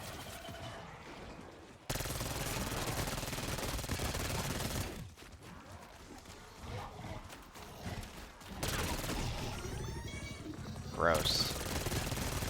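Video game gunfire aimed at an enemy comes in loud sustained bursts separated by short quieter gaps, with a sharp burst near the end.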